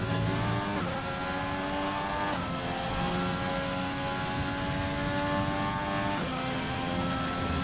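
A Renault race car in a PC racing game at the Zandvoort circuit holds a high, loud engine whine, with upshifts dropping the pitch three times before it climbs again.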